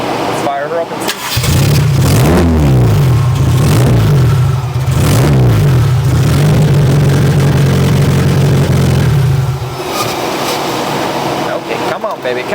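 A 1,000-dollar wide-body Fox Body Mustang engine cranks and fires, then idles loud and close with a couple of rising revs before cutting off; a voice talks over it.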